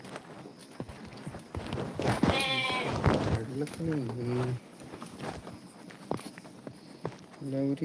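Goats bleating on a goat farm where the animals are tied up and fed fodder and maize, several loud close bleats over scuffling hooves and rustling, with people talking nearby.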